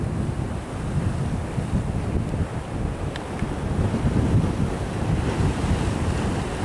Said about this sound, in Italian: il mare un po' mosso, sentite le onde